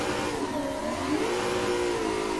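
A Corvette in the Assetto Corsa racing game, drifting with modulated throttle, its engine droning loud and continuous with pitch rising and falling as revs change, no voices over it.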